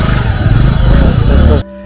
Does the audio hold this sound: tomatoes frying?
no